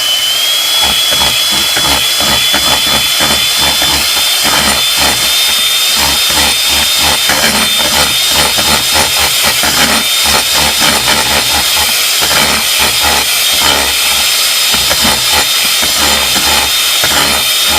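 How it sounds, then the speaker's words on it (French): A small electric hand mixer beats flourless protein pancake batter with a loud, continuous whirring whine. The sound holds steady and close throughout, with no talk. "on va sortir le petit malaxeur et puis on va brasser le tout"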